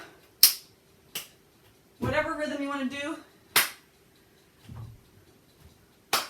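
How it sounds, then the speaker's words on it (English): Sharp, isolated hand claps ring out in a quiet room during a mixed-level Pilates mat class, spaced irregularly, with a brief spoken instruction between them. "And we'll add some claps."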